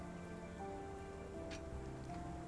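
Steady rain patters down through a dark night street in the Sherlock Holmes: The Awakened game, a soft continuous hiss layered with low sustained musical tones.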